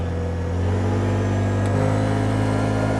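A side-by-side UTV engine revs hard in sport mode, a loud, steady, close droning roar that shifts pitch partway through.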